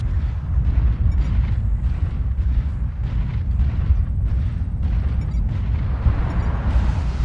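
Two AC5 autocannons in the MechWarrior Online video game fire in a dense, rumbling barrage, heavy booming shots running continuously with no gaps, loud and close, with no talking over them.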